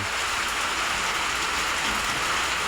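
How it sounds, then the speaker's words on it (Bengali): Steady, dense downpour of heavy rain, a continuous close hiss of drops on surfaces with no pauses and no voices. "এই যে দেখেন সেই প্রচুর বৃষ্টি"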